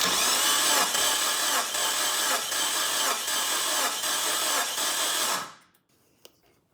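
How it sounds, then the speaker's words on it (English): A car engine cranks steadily during a compression test with a rhythmic pulsing whir, about seven even beats, close and loud, then stops and falls quiet. "I press the clutch and accelerator pedals to the floor and crank the engine over about 7 times."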